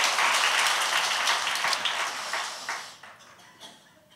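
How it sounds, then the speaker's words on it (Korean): A church congregation breaks into applause at a thanksgiving service marking the church's admission to a presbytery, dense clapping filling the room and then thinning and tapering off toward the end. "이럴 땐 박수 한번 치는 거 아닙니까?"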